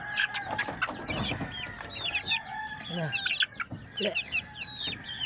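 Month-old native chickens cluck busily nearby while a rooster crows more than once, the calls layered over a rural farmyard background with occasional other bird chirps.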